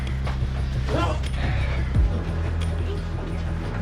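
A chair is lifted with a close, drawn-out wooden creak and some mechanical squeaking over a steady low hum, with a brief thump near the end, in a staged scene from a Hindi comedy film.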